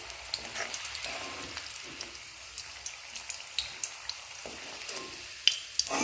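Pointed gourd (potol) pieces frying in oil in a home kitchen, giving a steady, fairly quiet sizzle with scattered sharp pops and crackles throughout.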